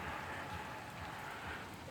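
Steady rain falls outdoors, a soft continuous patter with no pauses, heard faintly and evenly throughout.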